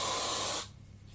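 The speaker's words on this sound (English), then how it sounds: "Then what I like to do is take my hairspray, and I have this Svetkov's Taft number 5," Taft No. 5 hairspray sprayed onto hair in one steady, close hiss lasting just over half a second, then cutting off into quiet.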